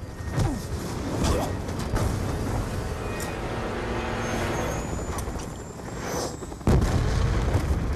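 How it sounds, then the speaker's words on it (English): Explosions and battle noise from the video game Call of Duty: Black Ops II form a dense, continuous roar, with a sharp, louder blast near the end. "I feel like he was not far enough away from that explosion to survive."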